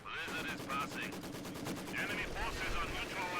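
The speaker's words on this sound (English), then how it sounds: "It's MG versus MG, Maxim versus MG42." Rapid machine gun fire from a Maxim and an MG42 trading bursts in a World War II strategy video game, steady rattling volleys throughout under a faint voice.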